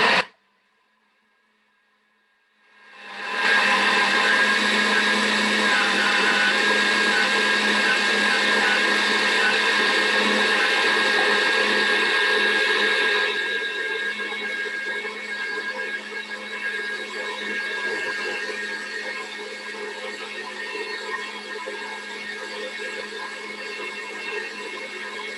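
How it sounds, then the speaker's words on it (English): A bullet blender blends almond milk with a loud, steady motor roar after a short quiet start. It drops slightly in pitch and level partway through as the contents thin, with no voices over it. "now that I'm getting ready to blend it, it's going to get a little noisy"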